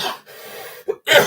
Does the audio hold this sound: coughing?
yes